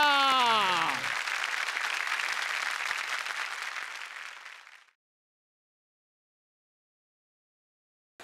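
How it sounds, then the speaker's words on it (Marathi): A studio audience on a television comedy show bursts into loud, sustained applause after a speaking voice, clapping for about four seconds before fading to silence. "3ही पाहुण्यांसाठी जोरदार टाळ्या."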